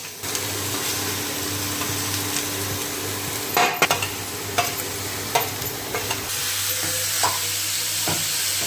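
Grated carrot sautéing in ghee in a pan, with a steady loud sizzle and a few spoon scrapes and clinks as it is stirred, close by.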